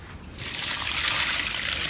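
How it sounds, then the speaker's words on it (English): Water pours and trickles out of a plastic PVC pipe fish trap used for catching catfish and snakehead, starting after a brief pause and continuing as a steady, close splashing rush. "Take out the water."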